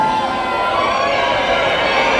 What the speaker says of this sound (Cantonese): 不如我哋用我哋最大嘅歡呼聲，我哋嘅尖叫聲，請我哋今日最重要嘅主角出場